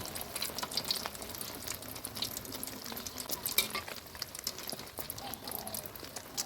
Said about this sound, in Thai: การทอดไข่เจียวให้ออกมาฟูกรอบน่าทานสำคัญมาก ๆ เลยเราต้องค่อย ๆ ทอดใจเย็นๆนะครับ